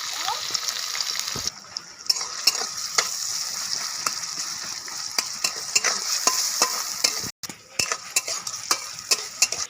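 Chopped onions hit hot oil in a wok and sizzle loudly and steadily at close range, with scattered clicks and scrapes as they are stirred and a brief dropout near the end.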